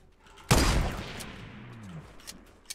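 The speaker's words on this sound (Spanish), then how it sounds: "¿De dónde me están disparando?" Gunfire in the Fortnite video game: one sudden loud burst of shots, followed by a decaying rumbling tail and a few faint distant cracks.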